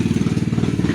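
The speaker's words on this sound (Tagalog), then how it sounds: "pasensya na guys sa motor na dumaan guys, maingay" A motorcycle passes close by outdoors, its engine a loud, steady, rapid low putter that fills the whole second with no voices.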